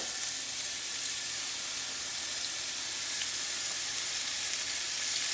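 Salmon fillets laid in a single layer in a hot skillet drizzled with oil sear with a steady, even, close sizzle that holds constant throughout, with no talking.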